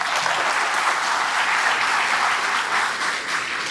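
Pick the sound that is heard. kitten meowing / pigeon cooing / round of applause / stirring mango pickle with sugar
round of applause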